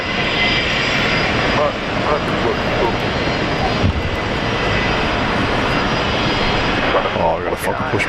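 An airliner's engines roar loudly and continuously at Brisbane Airport during pushback, a broad steady rumble with faint background voices.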